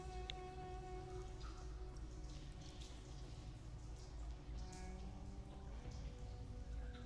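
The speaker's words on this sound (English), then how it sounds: "Oh, just the atmosphere is just brilliant. The water dripping here." Dripping water in the VR game Karnage Chronicles, falling as steady rain-like patter with scattered sharper drips over a constant low drone, quiet and continuous.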